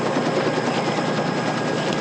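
A military helicopter in a Vietnam War battle scene thrums loudly and close, its rotor chop pulsing in a fast steady rhythm over a broad engine roar, with no voices.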